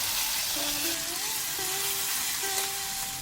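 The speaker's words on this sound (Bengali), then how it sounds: "এবার ফোড়নে দিয়ে দেব তেজপাতা আর আধা চা চামচ রাঁধুনি তিরিশ চল্লিশ সেকেন্ড একটু ভেজে নিয়ে আলু আর উচ্ছেগুলো দিয়ে তিন চার মিনিট ভেজে নেবো" Potatoes and bitter gourd frying in oil with bay leaf and radhuni for a shukto, a steady close sizzle with faint thin whistling tones running through it.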